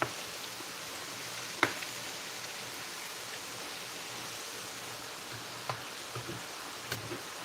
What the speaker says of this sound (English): Meanwhile, the rice is sizzling.